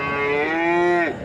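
A calf at the Chintamani cattle market, where Jersey and Holstein calves are sold, gives one sustained, steady moo lasting about a second that drops in pitch at the end, loud and close with no talk.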